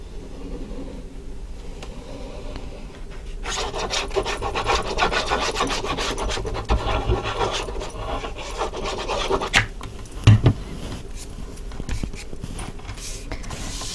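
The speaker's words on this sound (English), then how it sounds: "Let's burnish this down." A glued paper file folder edge being burnished down, a steady dry rubbing and rasping that starts softly, grows louder and denser partway through, then eases off, with a couple of small knocks near the end.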